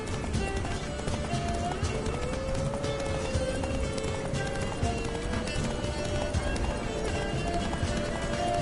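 Horse galloping in The Witcher 3, a continuous rapid drumming of hooves at moderate loudness with faint music and ambience behind it.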